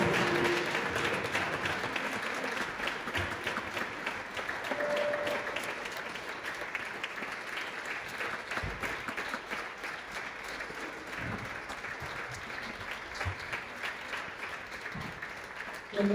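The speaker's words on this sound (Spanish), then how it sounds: "cerramos este tiempo dándote gloria por medio de nuestros aplausos" A church congregation claps in steady, moderately distant applause that runs for a long stretch at the close of worship, with a few voices audible underneath.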